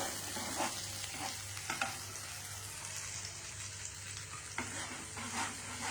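Food cooks in a pan with a steady hiss of frying while a spoon stirs it, giving occasional soft scrapes and knocks, close by and without talk.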